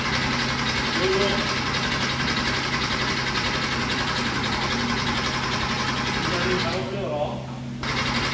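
The engine of a 1986 Porsche 911 Targa pulled from abandoned storage cranks steadily for several seconds without firing, a loud continuous whirring starter drone with no catch, and voices are heard over it.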